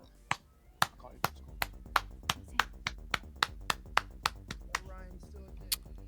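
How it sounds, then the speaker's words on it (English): Steady hand clapping as a small room reacts to a movie, about fifteen crisp, evenly paced claps from close by, slowing and thinning out toward the end. "an applause for the movie"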